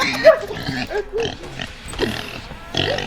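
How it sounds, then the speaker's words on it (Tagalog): A pig oinks in the Roblox game The Butchery, with short grunting calls rising over game sounds while people talk throughout. "Yan ang baboy."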